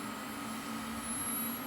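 Steady, loud whooshing roar of computer cooling fans in a custom-built Intel Pentium 4 PC, a continuous broadband drone with a faint hum, no talking.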